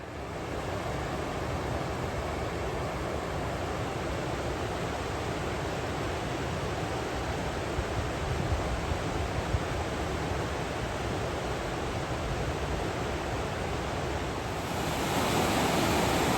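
Mouse Creek Falls roars in a dense, unbroken rush of falling water, loud and close, holding steady for the whole stretch with a slight surge at the end.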